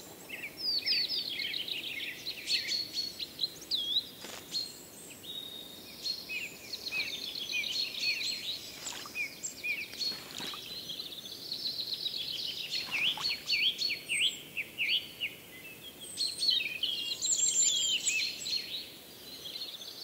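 A female redpoll calls in woodland beside a pond in the British countryside, repeated high twittering chirps coming in bursts throughout, moderately close, with no voices.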